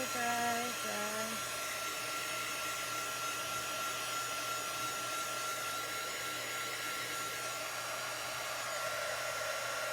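A hair dryer runs steadily and loudly for the full stretch, drying a chalk-paint craft project, its constant whooshing roar with a brief tonal wobble near the start and no pauses.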